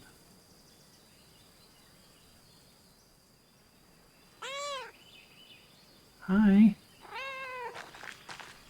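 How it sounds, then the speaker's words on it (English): An old cat in a run-down medieval village garden meows several times, short rising-falling calls with one louder, lower yowl, close by over quiet ambience, and a person says a brief word. "this is an old cat."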